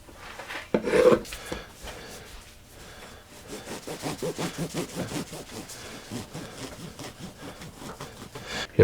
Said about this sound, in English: I'm going to start by slicing a couple slices of some freshly baked bread